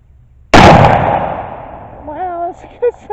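A single sharp, loud gunshot from a firearm loaded with Triple Seven powder cracks out and decays through a long echoing tail, followed by a person's brief voice.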